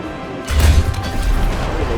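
An M1A1 Abrams tank cannon fires in War Thunder: one heavy, close boom that breaks out suddenly, then a low rumble that slowly fades away.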